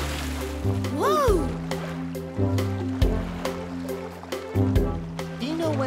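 Cartoon water rushing and gurgling like a bath draining, with a continuous watery wash under a musical score, a few whooping sliding tones, and voices speaking over it.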